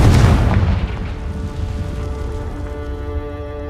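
A Confringo spell in the Hogwarts Legacy game detonates in a loud, deep boom that hits at once and then rolls away into a long rumbling decay.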